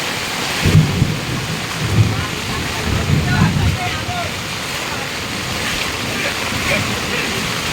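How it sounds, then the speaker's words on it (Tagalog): Heavy rain pours down in a dense, continuous roar, with a few low rumbling thumps early on. "Lakas ng ulan, no?"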